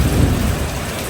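Heavy evening rain pours steadily while deep thunder rumbles loud underneath it, continuous and close, with no talk.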